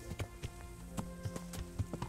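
Rhythmic horse hoofbeats clop along at a trotting pace in the video game Kingdom Come: Deliverance, soft and slightly muffled, with no talking.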